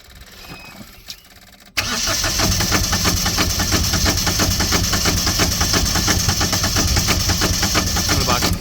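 A 1984 Powerfab 1700x mini excavator engine bursts into a loud, steady revving roar with a fast knocking pulse after a short quiet opening, running close and continuous to the end.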